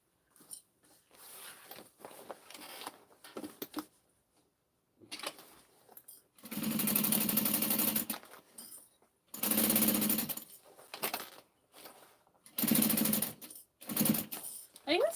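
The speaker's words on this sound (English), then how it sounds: "let's baste this together first." A sewing machine bastes mini backpack pieces together in three loud runs of rapid stitching, each a couple of seconds long, with quieter handling noises and short pauses between.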